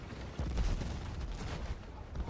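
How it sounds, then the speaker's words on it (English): Dense, continuous battle noise of rapid gunfire and explosions booming in the low end, steady and loud with no talking. "Lots of explosions."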